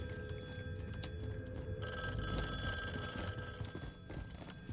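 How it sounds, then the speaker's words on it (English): A telephone rings in the horror video game Snorezone, a shrill repeating electronic bell that starts abruptly and keeps sounding close by over low background rumble, with no talk. "Oh, another phone ringing."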